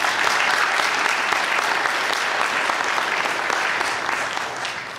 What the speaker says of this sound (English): How about giving them another round of applause?